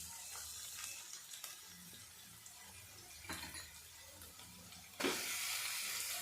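Chopped onion goes into a pan of frying garlic and chillies, with a low crackling sizzle, a few clattering stirs and a sudden louder hiss near the end.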